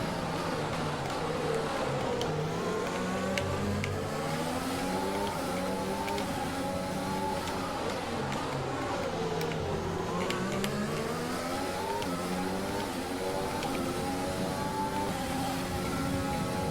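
Formula 1 race cars in an Azerbaijan Grand Prix racing video game, a steady loud engine drone with rising and falling pitch sweeps as cars accelerate and shift, continuous throughout with no speech.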